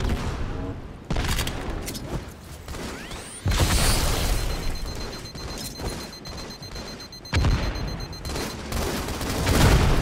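Bombs exploding in Halo: The Master Chief Collection, several sudden loud blasts amid chaotic gunfire and mechanical game noise, each burst cutting in sharply and then tailing off.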